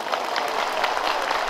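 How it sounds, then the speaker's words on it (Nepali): Audience at a Buddhist monastery scripture-reading puja ceremony breaks into loud, sustained applause, dense clapping filling the whole stretch without pause. "परमेश्वरलाई जोरदार ताली दिनुहोस्।"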